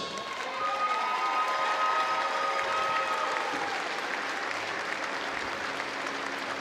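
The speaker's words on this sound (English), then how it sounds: "So the Netherlands receiving warm applause from their passionate, loyal supporters who have made the journey with them." A crowd applauds the Netherlands women's team as silver medalists at a wheelchair basketball European Championship ceremony, steady sustained clapping from a large hall audience with scattered cheers, fading slightly toward the end.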